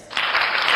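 A short, dense burst of clapping from a group rises quickly and holds steady for under a second.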